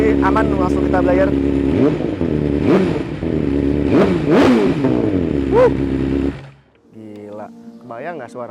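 A BMW S1000RR fitted with a full racing exhaust revs repeatedly, loud and close, with sharp throttle blips rising and falling over a rumbling idle before dropping away as a voice talks over the quieter tail.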